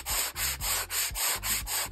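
Hand sanding over wood filler on a dressing table, a close, steady back-and-forth rasp in even strokes roughly four times a second, with no talking.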